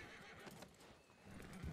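Horses in a Red Dead Redemption roleplay session whinny and clop their hooves close by in a brief, loud burst of neighing.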